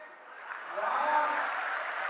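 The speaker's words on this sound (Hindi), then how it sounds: "तालियां थोड़ी है" Audience applause at a Hindi comedy poetry show: a steady, dense patter of many hands that swells slightly and holds, with no voices over it.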